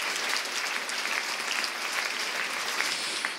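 Audience applause at an equality breakfast event, steady dense clapping from a crowd filling the whole stretch, moderately loud with no voices standing out.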